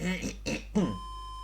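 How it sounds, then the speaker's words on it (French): A man clears his throat a few times in short, rough bursts, close to the microphone, with faint steady fan hum behind and a brief thin tone near the end. "je suis désolé de me racler la gorge tout le temps là."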